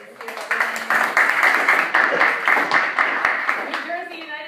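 An audience claps for a speaker at a student advocacy event, with a steady patter of applause that fades out near the end as a voice begins.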